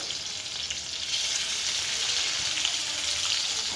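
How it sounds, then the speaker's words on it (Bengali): Chopped tomatoes fry in a hot pan, a steady bright sizzle that swells louder after the first second and keeps hissing evenly throughout, with no voices. "কড়াই দেওয়ার পর প্রথম টমেটো কুচি দিয়ে দিলাম।"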